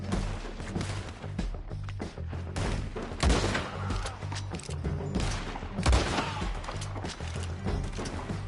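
Gunfire rings out in a Red Dead Redemption 2 firefight, a dense stretch of repeated shots and sharp cracks with several heavier booms, loud and close throughout.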